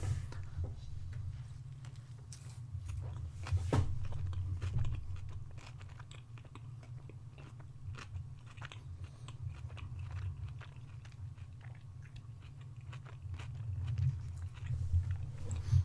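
Someone biting into and chewing a fiery tofu and crunchy cabbage slaw sandwich on dark rye bread, with soft, close crunches and mouth sounds repeating steadily over quiet room hum, no talk.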